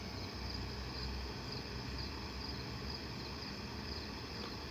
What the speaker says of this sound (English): I need to hear crickets.